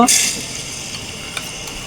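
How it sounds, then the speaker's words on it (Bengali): Onion paste hitting hot oil with bay leaf and cinnamon in a pan, giving a short bright sizzle burst at the start that settles into a faint steady frying hiss. "তেলটা গরম হয়ে গেছে আমি এখন তেজপাতা আর দারচিনি দিয়ে দেবো পেঁয়াজ বাটা দিয়ে দেব"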